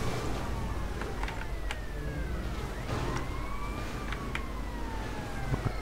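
A police car siren in the GTA Vice City video game wails in repeated rising and falling sweeps over steady traffic and engine noise, moderately loud throughout.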